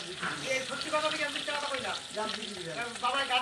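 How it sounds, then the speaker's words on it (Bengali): Hilsa fish frying crisply in hot oil, pieces fried one at a time, giving a steady close sizzle and crackle throughout with someone talking over it. "এখানে খুব কড়া করে ভাজেছি এক এক করে মাছগুলো সব এখানে ভেজে নেবে"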